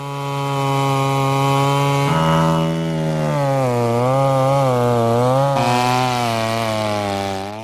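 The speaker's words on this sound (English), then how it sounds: "the chainsaw is used as its tip cuts down at an angle into the roots" A chainsaw whines loudly and continuously, its pitch dipping and rising as its tip cuts down at an angle into tree roots.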